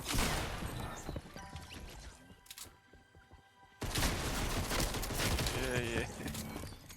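Bursts of rapid gunfire and crashing impacts sound from an online video game, loud and dense at the start and again after a quieter stretch in the middle.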